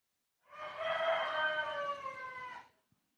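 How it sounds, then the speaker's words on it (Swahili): A rooster crows once, a long clear call lasting about two seconds, fairly near against otherwise silent surroundings. "Hiyo jogoo ni kubwa sana."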